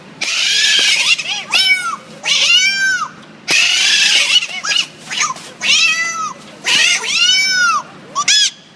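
Whistle imitation of a cat meowing by a man, a repeated series of loud, close wailing meows and caterwauls with rising and falling pitch, several in a row with brief gaps.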